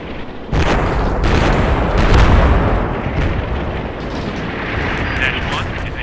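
Heavy artillery preparatory fire pounds a compound in Combat Mission Shock Force, a dense, loud wall of booming blasts rolling continuously with sharp bursts layered over a deep rumble.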